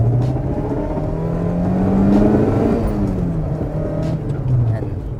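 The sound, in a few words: 2005 Toyota Corolla engine revving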